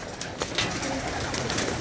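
Pigeons coo softly in a short burst of low, throaty calls over a noisy outdoor background.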